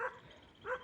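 A dog on a farm orchard gives two short, fairly faint barks about half a second apart against a quiet outdoor background.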